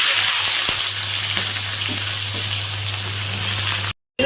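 Cauliflower stalks dropped into hot oil with dry red chilies, five-spice and mustard seeds, giving a loud, continuous close-up frying hiss with a low hum beneath, ending in a brief cut to silence.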